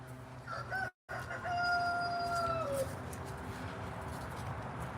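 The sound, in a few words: chickens clucking and rooster crowing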